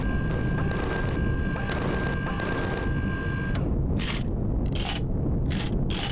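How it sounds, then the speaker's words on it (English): Turret fire from an armory structure in Empyrion Galactic Survival, a dense, loud barrage of rapid shots for about three and a half seconds, then separate bursts of impacts spaced through the rest. "Oh, it already is shooting at us."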